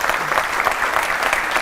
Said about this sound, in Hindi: तालियां बजाइए देखिए उनके लिए।